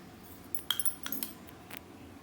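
A metal spoon clinks lightly against a glass or cup while mango puree is measured and added, a few faint taps and scrapes close by.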